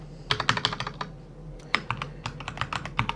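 Code being typed on a computer keyboard: close, crisp key clicks in quick bursts with a short pause in the middle, alone without talk.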